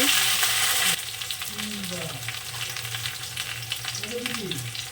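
Ginger spice paste frying in hot oil, with a loud hissing sizzle that drops to a steadier crackle after about a second, and faint voice-like murmurs underneath.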